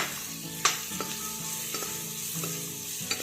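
Frying in a clay wok over high gas flame, with fish set aside and onions to follow: steady dense sizzle with several sharp clinks of a spatula stirring against the pot, close and fairly loud, no voices.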